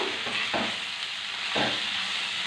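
Grated raw banana is fried in a pan under a constant sizzle, with two distinct stirring strokes scraping through the mixture about a second apart.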